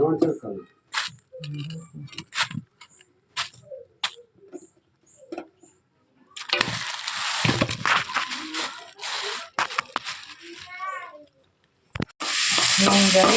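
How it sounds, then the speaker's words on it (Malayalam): Fenugreek seeds, green chilies and shallots sautéing in coconut oil in a home kitchen for fish curry, a loud crackling sizzle rising after scattered clatter and stirring, with a second burst near the end. "വെളിച്ചെണ്ണ ഒഴിച്ചു കൊടുത്തു കുറച്ച് ഉലുവ ചേർത്ത് കൊടുത്തു പച്ചമുളകും വല്യുള്ളിയും വഴച്ചെടുത്തു"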